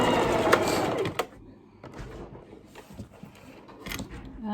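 A sewing machine stitches a seam around a fabric mat in short, rapid bursts, its mechanical chatter pausing between runs while a person talks intermittently nearby.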